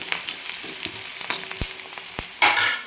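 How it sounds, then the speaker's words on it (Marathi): Turmeric being stirred into pithla frying on a griddle, with a steady close sizzle, scraping stir strokes and a few sharp utensil taps on the pan. "छान मिक्स करून घ्यायची हळद पण."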